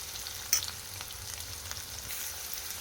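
Finely chopped onion and green chilli frying in a pan for corn samosa filling, a low steady sizzle with a sharp stirring scrape near the start and soft clinks, heard close with no speech.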